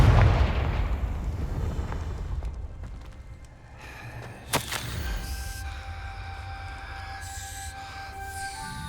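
Confringo explosive spell cast in a Harry Potter video game: a sharp single blast bursts out midway over a rumbling game soundscape, followed by lingering tonal shimmer and background hum.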